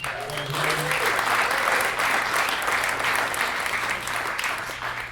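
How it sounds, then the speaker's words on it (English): Applause fills a comedy club at The Laughing Tap in Milwaukee, a crowd clapping loudly and continuously throughout with a few faint voices mixed underneath. "No, Carly MC, give her a big round of applause, man."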